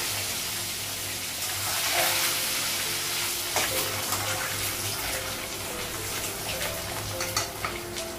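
Eggs and potatoes sizzle steadily in oil in a kadai, a broad close frying hiss with occasional scrapes and clinks of a spatula, no talking.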